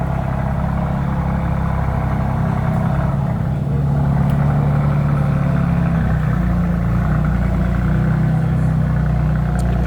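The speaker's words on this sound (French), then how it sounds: "La petite M2, hein, qui fait un joli bruit quand même avec les acras" A BMW M2 idles steadily at a private car club, a deep, close engine rumble that holds throughout with faint, sparse exhaust crackles on top.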